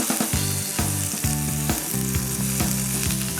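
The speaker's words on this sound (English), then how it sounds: "And then give all this a nice stir to get it cooking together." Garlic cloves and mushrooms fry and crackle in a pan with a bright, continuous sizzle while a utensil stirs them, and soft music plays along underneath.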